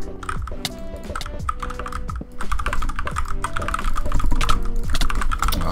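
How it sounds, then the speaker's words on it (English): Keyboard keys clatter in quick, uneven bursts during a fast video game duel, close and fairly loud over layered game music and effects, with no voices. "I pressed the wrong key on my keyboard"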